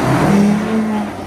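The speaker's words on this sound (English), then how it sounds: "Quadtrack cold start." Case IH Quadtrack tractor engine cold start: a short, loud, steady low diesel drone holding a single rumbling tone throughout.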